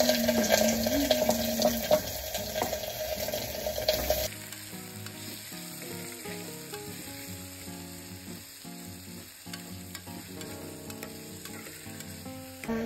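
Garlic, onion and tomato sizzle in a pan for khichdi, loud frying for several seconds, then dropping to a softer, steady crackle with faint stirring clinks.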